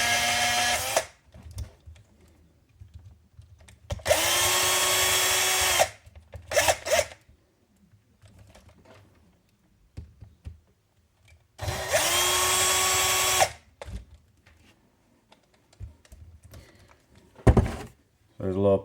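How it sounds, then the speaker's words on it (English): A power drill driving screws into a Redcat Blackout RC car whirs in two long bursts of about two seconds each, with short blips in between and quiet clanks and thumps during the pauses. "Don't put your screws in with a drill."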